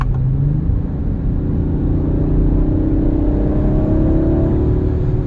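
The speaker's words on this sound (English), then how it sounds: "You can hear the exhaust here in dynamic mode" A 2021 Audi RS5 Sportback engine rumbles loudly and steadily close by, its exhaust in dynamic mode droning as revs rise and hold on a downshift.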